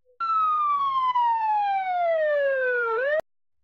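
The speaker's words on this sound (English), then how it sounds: "There's our siren." An AI-generated siren from the AudioGen text-to-audio model wails alone in one long descending tone, loud and steady for about three seconds before cutting off.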